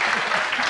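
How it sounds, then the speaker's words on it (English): A 1982 late-night television studio audience breaks into a short, loud burst of dense applause, with many hands clapping at once and no talking over it. "A burst of applause there."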